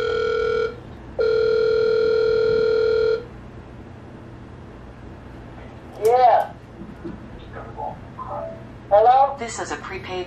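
A telephone ringback tone on a call back to a jail, two long steady electronic rings near the start, followed by a pause and then people talking.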